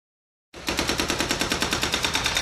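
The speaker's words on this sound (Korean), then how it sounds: "중장비가 요란한 소리를 내며 회색 콘크리트 벽을 허뭅니다." Heavy equipment breaks down a grey concrete wall, a hydraulic breaker starting suddenly after a short silence and pounding in rapid, even, loud bursts.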